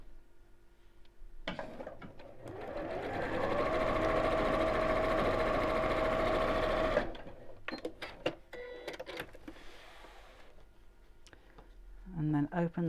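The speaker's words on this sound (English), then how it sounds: "So let's just sew down here." A domestic sewing machine runs in one steady, loud whirring burst of about five seconds as fabric pieces are stitched together, then stops, followed by lighter clicks and handling noises and a voice speaking near the end.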